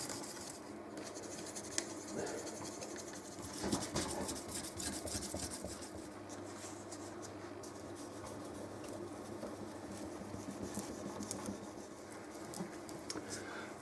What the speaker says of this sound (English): I'll then give it a bit of a buff with some burnishing cream